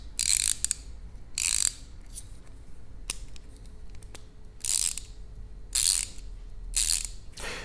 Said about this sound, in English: with this little switch here, you can flip the directions that this ratchets.